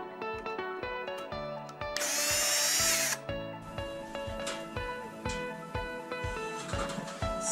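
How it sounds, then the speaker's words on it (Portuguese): A power drill drives screws to close the compartment of a Samsung WindFree Black Edition air conditioner. Short whirring bursts alternate with one longer, louder high-pitched spin, heard up close with a ringing background tone. "Vamos fechar o compartimento e parafusar."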